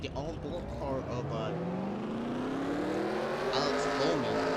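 Onboard engine of a NASCAR Cup car in NASCAR Racing 2003 at the Brickyard 400, a loud steady drone rising in pitch as the car accelerates, with a commentator talking over it.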